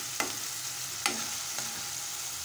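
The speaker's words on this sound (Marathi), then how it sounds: "आता टोमॅटो परतून घेऊया। आता मीठ घालत आहे।" Chopped tomatoes sautéing in oil with salt for masala Maggi noodles: a steady soft sizzle close by, broken by two or three sharp spoon clinks against the pan as the mixture is stirred.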